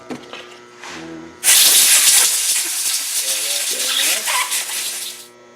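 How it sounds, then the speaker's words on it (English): Carbon and choke cleaner sprays from an aerosol can onto a Murray push mower, a loud sustained hiss of about four seconds that follows brief talk and fades out at the end. "We'll give it a good blast with some carbon choke cleaner there."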